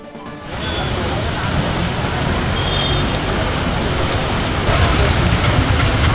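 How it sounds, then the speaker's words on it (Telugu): Heavy rain pours down steadily across Hyderabad streets, a dense, loud, continuous hiss of downpour with traffic faintly underneath, starting after a brief quieter moment. "హైదరాబాద్ లోని పలు ప్రాంతాల్లో భారీ వర్షం కురిసింది."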